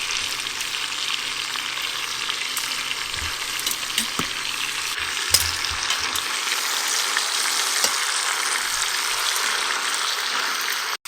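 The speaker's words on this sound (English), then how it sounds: "We'll then add our spices and fry it a little bit to bloom the spices" Spices frying in oil in an Instant Pot give a steady, bright sizzle throughout, with occasional faint stirring clicks and no talking.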